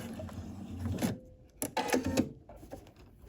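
Sewing machine fitted with a rolled hem foot stitching along a fabric edge, giving short bursts of mechanical clatter separated by pauses, close and moderately loud.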